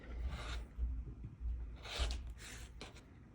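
The edges of a fabric quilt block are trimmed in a few quiet, close swishing and scraping strokes, spaced irregularly over a soft rustling background.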